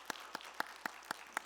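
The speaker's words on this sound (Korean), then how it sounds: "우리 늘 수고하는데 박수 한번 해드릴까요?" A church congregation claps at a Wednesday worship service, six sharp evenly spaced claps in a quick steady rhythm, faint and distant in a quiet room.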